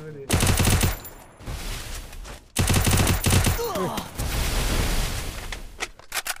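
Rapid bursts of automatic gunfire from a shooting video game, loud and dense, with short gaps between sustained volleys and a few faint voices in the background.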